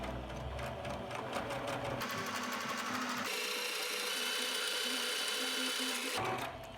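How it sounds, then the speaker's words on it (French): A sewing machine runs steadily, stitching a curved seam on fabric pieces for a face mask with a fleece lining. The whirring is loud and close, pausing briefly partway through and then continuing, with no talking. "on va venir faire une piqûre sur le grand côté arrondi"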